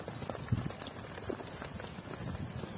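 A flock of sheep being driven along a road, hooves clopping softly and irregularly on the ground, faint and somewhat distant over a background hiss.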